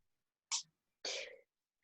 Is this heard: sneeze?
yes